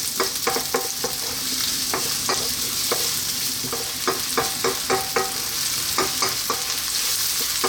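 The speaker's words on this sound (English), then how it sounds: "Next up, we're going to drop in our onion. And we're on a fairly lively high heat." Chopped onion fries on a lively high heat in a pan, sizzling steadily while a spoon scrapes and stirs in repeated clicks and taps, close and clear with no voices.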